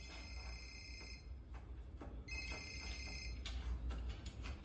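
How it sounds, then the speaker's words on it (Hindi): A telephone rings with an incoming call, two bursts of a bright electronic trill separated by a pause, faint and steady against a quiet, hissy background. "अब नरदीन फोन कर रहा है।"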